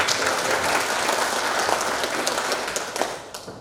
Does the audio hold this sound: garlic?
no